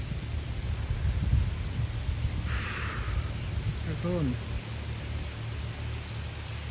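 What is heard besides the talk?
rain starting to fall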